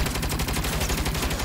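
Rapid automatic turret fire from the Saints Row video game sounds as a dense, continuous rattle of shots, loud and close, with no gaps.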